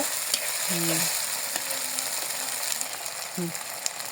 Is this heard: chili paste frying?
yes